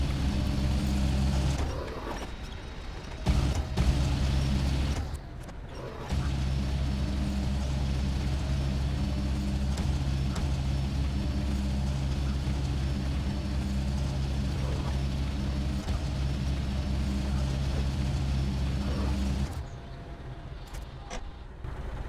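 Heavy LK-2NY crane in SnowRunner lifting a truck up to a building roof, with a loud steady diesel engine drone and low rumble that runs the whole time, briefly dipping in two short gaps early on.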